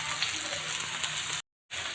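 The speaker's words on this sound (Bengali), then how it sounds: "আদাটা একটু ভাজা ভাজা হয়ে গেছে, এবার দিয়ে দিব লাউ। দিয়ে দিচ্ছি লাউ।" Ginger frying in a pan as chopped bottle gourd goes in, giving a steady, close hiss of sizzling oil that cuts out abruptly for a moment before resuming.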